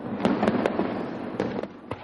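Fireworks burst in a quick series of about six sharp, loud bangs, spaced irregularly over a steady crackling, hissing background with no voices.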